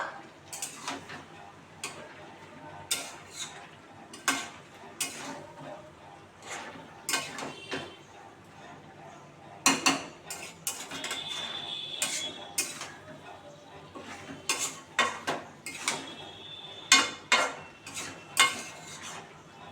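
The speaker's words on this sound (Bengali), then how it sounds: "ভালো করে তরকারিটা নেড়ে ছেড়ে দেবো" Curry stirred in a pot with a utensil, a string of sharp metallic scrapes and clinks recurring every second or so over a low, steady background, close and moderately loud.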